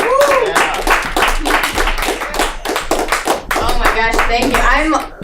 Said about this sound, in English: Everyone give a round of applause for Blair Pourciau!